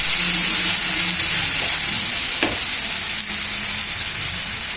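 A spice paste of onion, ginger, garlic and coriander fries in a pan with a steady, loud hiss and sizzle, with a few faint scrapes of stirring, and no voices.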